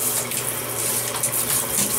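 Tap water runs in a loud, steady gush during a husky puppy's bath, with no talk.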